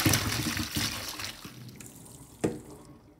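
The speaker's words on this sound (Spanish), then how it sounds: "ahora vamos a escurrir nuestras fresas" Washed strawberries drained in the kitchen after disinfecting, with water splashing and running off, loud at first, then trickling away into a few drips and one sharp splash near the end.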